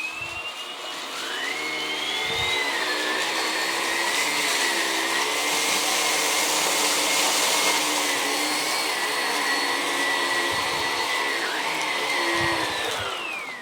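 A Vax ONEPWR Blade 3 cordless vacuum runs in boost mode at a high, loud whine on carpet, its pitch shifting as it is pushed back and forth, with no talking.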